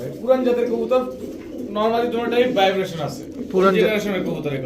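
Old-generation Giribaz pigeons of the Chuithal Giyasulli type coo at a seller's loft, their soft repeated calls running beneath steady nearby conversation.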